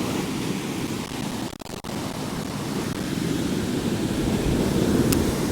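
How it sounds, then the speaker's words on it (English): Massive waves break on a rough, stormy sea shore at Skegness as a constant loud roar and wash, briefly dropping out before surging again, with no voices. "Not even getting past where the massive waves are, that's the trouble."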